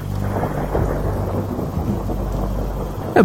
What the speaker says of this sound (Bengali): বাইরে তখনও এক নাগাড়ে বৃষ্টি হয়েই চলেছে।